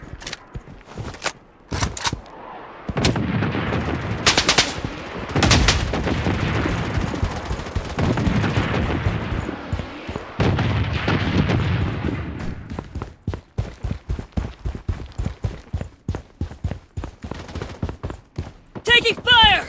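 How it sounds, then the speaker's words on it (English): Heavy gunfire and missile bombardment in the shooter game BloodStrike: rapid bursts of shots, booming impacts and sustained loud blasts, then a dense string of sharp, close rifle shots. "Missile bombardment on its way."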